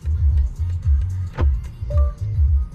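A BMW i5 electric car reverses slowly with a repeating low pulsing hum, a rhythmic warning-like pattern close by, and a short tick partway through.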